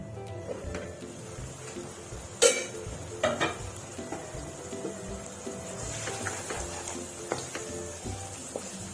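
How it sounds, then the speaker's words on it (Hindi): Chicken masala spices fry quietly in a pan on low heat, a soft steady sizzle with stirring scrapes and a couple of sharp utensil clinks against the pan. "मसाला जो है वो भुनने लगा है।"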